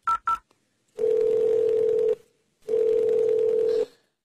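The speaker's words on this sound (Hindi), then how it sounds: "मैं अभी अपने बेटे को फोन करती हूँ" A telephone dials to call a son: two quick keypad beeps, then two long, steady ringing tones separated by a short silence, loud and close, with no talking.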